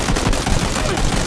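Rapid bursts of gunfire crackle densely and continuously, loud and close, automatic weapons firing in PUBG: Battlegrounds, with a voice faintly mixed beneath.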